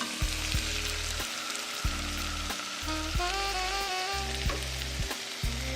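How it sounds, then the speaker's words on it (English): Diced tomatoes and tomato sauce for lasagna soup are stirred in a pot, a constant close sizzle with repeated scraping and knocking strokes of the spoon, loud throughout with no talking. "We're going to mix it until it's well combined."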